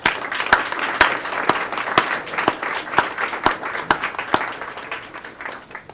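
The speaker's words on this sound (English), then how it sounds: "Can we give the YOU staff a round of applause, please?" A crowd applauds with dense, steady clapping, a few sharper claps standing out, gradually fading toward the end.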